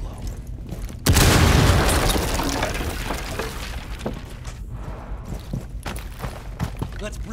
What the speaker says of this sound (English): Charge ready to blow.